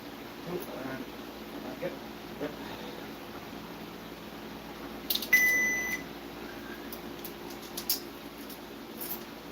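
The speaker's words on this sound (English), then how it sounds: "stop the timer, reset the timer, start the timer" A timer gives a short electronic beep as it is started and stopped, one clear tone midway through, amid light tool handling and clicks in a quiet room.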